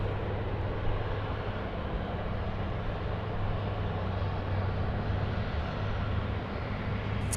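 A Qantas Airbus A330-200 arriving from Shanghai on final approach to runway 16 right at Sydney Airport gives a steady, broad jet roar with a low engine hum, continuous and moderately distant, with no voices.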